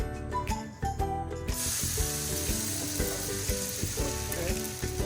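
Veechu roti dough hits a hot griddle with a sudden broad sizzle that keeps crackling steadily, while a clattering, ratchet-like metallic rhythm repeats over it.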